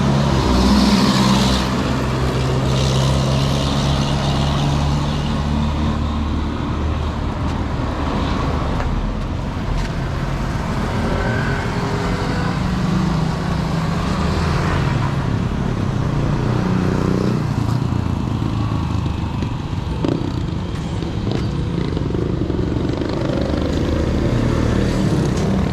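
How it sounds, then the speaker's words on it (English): Handmade custom Jeep-style vehicles built on Jeep Wrangler bases drive through Puerto Galera town. Loud, continuous engine rumble and road noise come mixed with heavy wind buffeting on the microphone, with no clear talk. "These are all handmade cars here."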